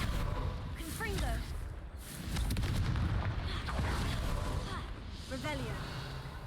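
Confringo fire spell blasts in the Hogwarts Legacy video game: several booming, explosive bursts spread across the moment amid game combat noise, with a voice talking throughout.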